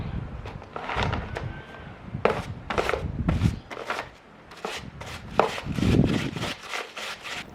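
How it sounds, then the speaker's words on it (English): A stiff parts brush scrubs a 28-inch battery chainsaw chain in a little kerosene in an oil drain pan, giving repeated sharp rasping strokes in uneven bursts, close and fairly loud. "Cleaning the chain in a small amount of kerosene in an oil drain pan with a parts brush or wire brush"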